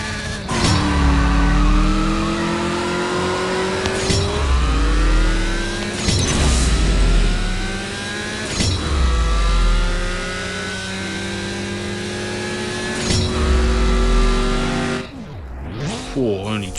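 Racing car engines rev hard in the mobile drag-racing game CSR Racing 2. Loud, close engine notes climb in pitch through repeated gear shifts, with sharp breaks every two seconds or so. A brief dip comes near the end.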